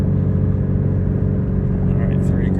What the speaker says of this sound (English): This exhaust is really, really quiet.